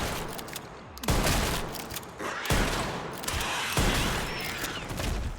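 Gunfire in the Resident Evil Requiem video game, three heavy blasts spaced about a second and a half apart, each with a mechanical rattle and a short decay.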